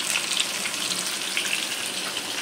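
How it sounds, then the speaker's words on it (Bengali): Fish fries in plenty of hot oil in a home kitchen, giving a steady, close hiss and sizzle with faint crackling and no talking. "যেহেতু বেশি তেল আছে তাই মাছটাও ভেজে নিচ্ছি"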